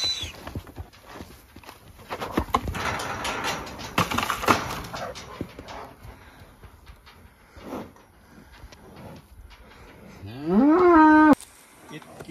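Cattle moo among heifers after a bull is let in with them on a farm, with one loud, near, drawn-out moo standing out near the end over a background of shuffling animal noise.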